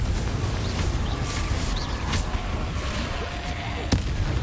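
Confringo fire-blast spell cast in Hogwarts Legacy, a dense, roaring rush of crackling bursts filling the whole stretch, with one sharper crack standing out near the end.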